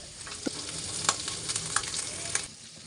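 Steady oily sizzling of chopped onion and garlic frying in oil with fish, with a few sharp crackles and pops and occasional scraping of a spoon, no voices.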